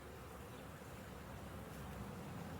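Honey bees buzz from an open hive with the brood area exposed, forming a dense, steady, low drone that fills the background, faint overall but continuous and agitated.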